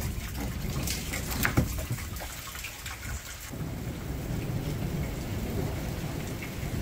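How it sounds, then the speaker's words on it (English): Steady, heavy rain pours down during an outdoor thunderstorm over a backyard rain barrel setup, with a sharp thunder crack near the start and low rumbling beneath the constant wash of falling water. "It's starting to thunder and lightning."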